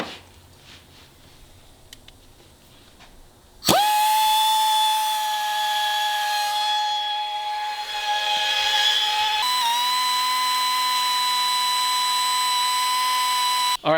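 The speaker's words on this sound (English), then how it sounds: "I got this tool here, rotary bit. So we're gonna start slowly gasket matching the cylinder head." Rotary tool grinding the intake ports of a BMW M50 cylinder head: after quiet background, a sudden loud, piercing high-pitched whine starts and holds steady for about ten seconds, shifting pitch briefly midway, then cuts off.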